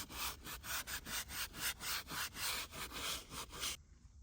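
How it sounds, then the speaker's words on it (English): A steering wheel on a Mustang GT is hand-sanded with fine 1000-grit sandpaper, a steady rhythmic back-and-forth rubbing of about a dozen close, even strokes that stops abruptly near the end. "we're gonna sand the steering wheel"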